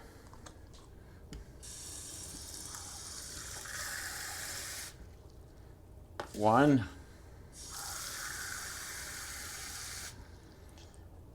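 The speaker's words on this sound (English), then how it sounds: "you can see now I have to add 3 beakers of water" Tap water runs into a beaker in a home kitchen while scallops are being prepared, with several steady gushes separated by pauses and one brief spoken count heard under the flow.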